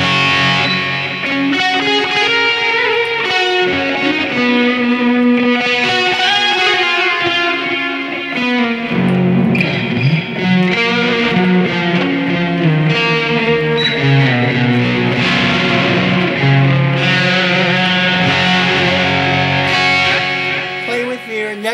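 Electric guitar through a Soldano amp model on a Boss eBand JS-10, playing a continuous 80s heavy-metal rhythm and lead passage with thick distorted gain, loud and steady throughout with no talking.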